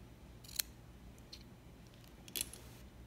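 Scissors cut cotton wick for an RTA vape build, giving a few faint, crisp snips spaced apart over quiet room tone.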